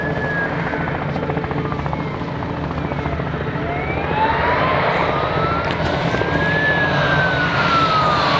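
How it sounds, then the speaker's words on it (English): Emergency siren wailing in the distance, its tone sweeping up and down over a steady rumbling background, in grassy open country. "Ah, you can hear that siren too."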